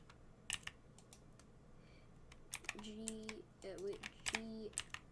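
Computer keyboard keys are tapped for 3D modelling shortcuts, producing scattered, crisp, close clicks in short irregular clusters, with a faint steady tone underneath.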